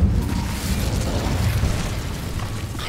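The Incendio fire spell in Hogwarts Legacy, cast inside a cave, a dense roaring whoosh of flame with rumbling bursts, loud and close, sustained throughout with no talk.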